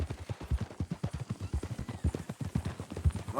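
Horse hooves clip-clopping in Red Dead Redemption 2, a quick steady rhythm of close, distinct hoofbeats walking along, with no voices over them.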